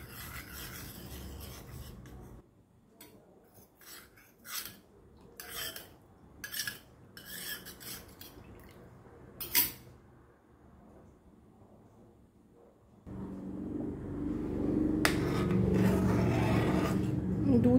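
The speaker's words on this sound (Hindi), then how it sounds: "हे सायडी सगळ्यो स्क्रॅप करून घेत रावपाक जाय।" A utensil scrapes the sides of a pan of boiling milk mixed with custard powder for saffron almond milk, giving a series of distinct close rasping strokes. A steady bubbling hiss follows.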